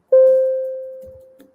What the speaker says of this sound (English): The signal alert system sounds like this.